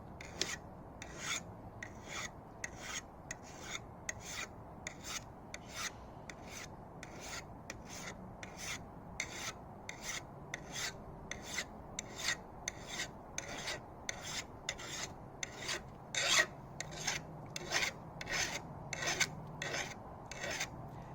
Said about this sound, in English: Following the existing angle, use a file to resharpen the blade in a downward motion.